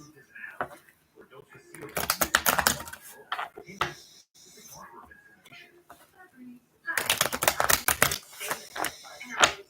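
Tarot cards shuffled during a live reading, coming in two bursts of rapid, crisp riffling clicks, close and fairly loud, with quieter rustling and handling between them.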